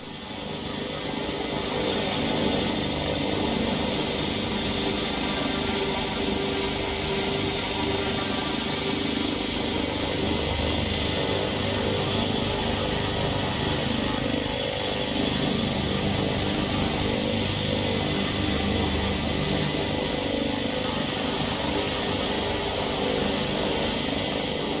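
A simulated Leonardo helicopter from X-Rotors drones in X-Plane 11 flight, a steady, loud, unbroken rotor and turbine roar with no pauses from start to finish.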